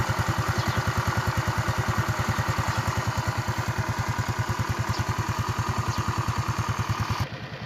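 A Rusi SC 125cc motorcycle engine idles up close with an even, rapid thumping pulse that stays steady and fairly loud, dropping slightly at the very end.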